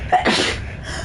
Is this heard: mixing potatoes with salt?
no